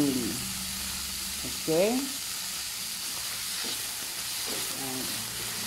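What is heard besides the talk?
stirring pork chop sauce with cream cheese in sizzling pan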